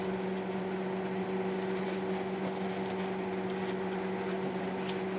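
A microwave oven heating edible Nutella slime gives a steady electrical hum with a strong low drone that runs continuously, joined by a faint whirring fan noise, with no talking.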